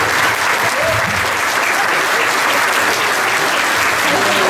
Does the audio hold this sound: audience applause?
yes